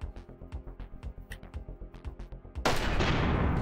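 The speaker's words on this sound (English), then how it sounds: "Let's try the grenade launcher." Rapid, evenly spaced shots pound away in the side-scrolling mech shooter MECHBLAZE before a grenade launcher round lands in a loud, hissing blast that carries on to the end.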